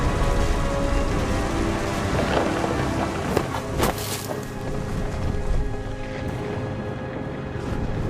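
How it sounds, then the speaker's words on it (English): Thunderstorm with heavy rain in the video game What Remains of Edith Finch: a dense, steady hiss of downpour with low rumbling thunder swelling beneath it, continuous throughout and with no voices. "The thunder sounded much too close and full of angry power"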